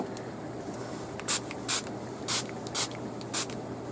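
Five short sprays of makeup setting spray being pumped, each a brief hissing burst with short gaps between them, close and fairly loud over a low steady room hum.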